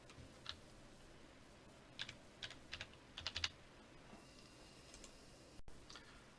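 A computer keyboard is typed on in sparse, light taps, a few scattered keystrokes and a short cluster, faint and close in a quiet room with no talking.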